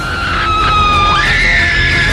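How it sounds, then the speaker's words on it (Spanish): A loud, sustained high scream from a monster movie, rising and sliding in pitch over about two seconds, heard alone without talk. "El suspense empieza en el estómago. Te sube por la garganta y sale como un grito."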